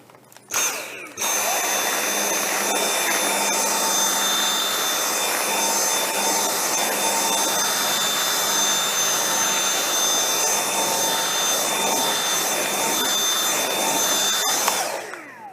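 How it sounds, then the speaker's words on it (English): A Dyson V7 Trigger cordless stick vacuum whirs steadily on low power over carpet, a constant high-pitched motor drone with brushing noise, starting abruptly and cutting off near the end. "We'll have the vacuum in low power mode."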